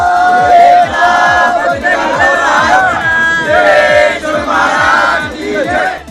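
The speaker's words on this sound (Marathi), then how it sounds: "सोलापुरात दररोजच जल्लोष सुरू होता" A large crowd shouts and chants loudly and continuously at the Gadda Yatra festival in Solapur, with rhythmic drum beats pounding underneath the cheering.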